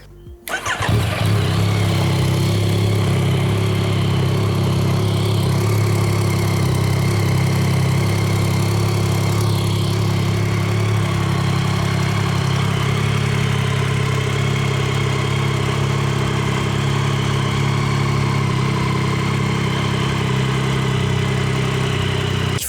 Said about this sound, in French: Je vais allumer la moto, on verra mieux.